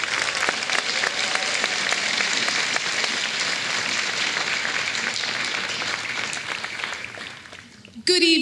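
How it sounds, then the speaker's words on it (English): A large audience at a high school graduation claps in a dense, sustained burst that holds strong for about seven seconds before thinning out, with a voice starting to speak at the very end. "Let's give them another round of applause."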